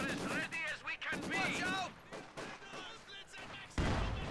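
A Maxim machine gun fires in the real-time strategy game Company of Heroes 2, its bursts and booming battlefield shots heard beneath continuous excited talking, ending in a louder blast.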